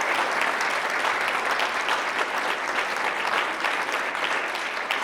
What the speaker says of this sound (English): a round of applause for it